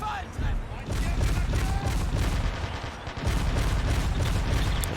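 Autocannon and rifle fire rattle in the Men of War: Assault Squad battle game during a German assault on a Soviet tank factory, with dense continuous bursts and scattered booms. A speaking voice runs beneath the gunfire.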